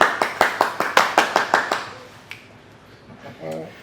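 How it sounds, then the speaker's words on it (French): At a bodybuilding posing event, a small group claps in roughly eight sharp, evenly spaced rounds over two seconds, then quiets to a low murmur before a voice briefly speaks. "Et on les applaudit bien fort."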